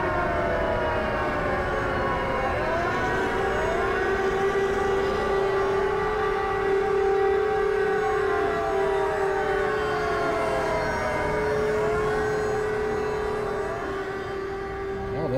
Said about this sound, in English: Well, those are sirens.